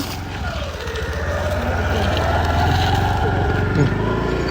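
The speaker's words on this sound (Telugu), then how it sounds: "1000cc బైక్ మించిన సౌండ్ వస్తుంది ఇది స్టార్టింగే" A loud superbike exhaust rumbles up close, holding a steady, throbbing low roar with no pauses throughout.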